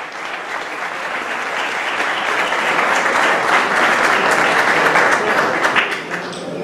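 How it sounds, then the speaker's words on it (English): Sustained applause from an audience of supporters in a room at a barbecue event, steady and dense throughout with a brief swell in the middle, no talking over it. "let us have a round of applause for all the supporters"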